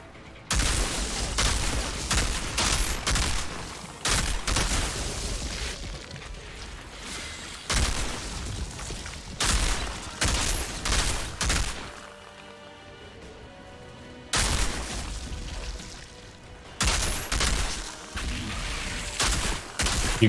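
Bursts of rapid gunfire in Outriders come in several clusters of loud shots separated by short pauses, with a quieter lull in the middle before the shooting resumes.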